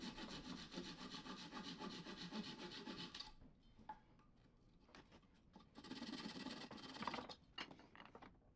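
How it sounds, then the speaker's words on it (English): A pull saw cuts a wooden dowel flush with a bench surface. Fast, rhythmic rasping strokes come in two close bursts separated by a quieter pause with a few light scrapes and taps. "using a pull saw, cut it flush"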